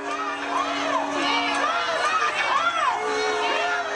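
Protest crowd at a street demonstration that is spilling out of control with children present, a dense wash of shouting voices and chatter, some calls rising and falling above the steady noise.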